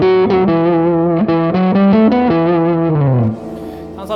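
Electric guitar lead tone through a Tumnus overdrive pedal on the neck pickup, a run of sustained distorted notes that fall at the end into a brief noisy decay, played loud and alone.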